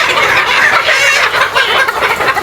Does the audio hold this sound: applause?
no